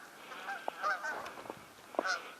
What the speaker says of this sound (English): here comes a flock of geese